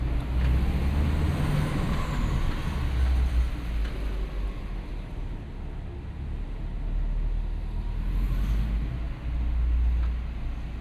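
A 2014 Subaru WRX hatchback's turbocharged boxer engine with a 5-speed manual hums steadily in first gear at low speed, a continuous low rumble with faint road noise and no voices.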